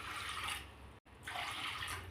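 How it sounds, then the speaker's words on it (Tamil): Water is poured from a tumbler into washed toor dal in a kitchen: a close, hissing splash, a brief break, then a second pour. "பருப்பு கழுவி வச்சு இதில் நம்ம ஒரு 2 டம்ளர் அளவுக்கு தண்ணி ஊற்றிக்கலாம்"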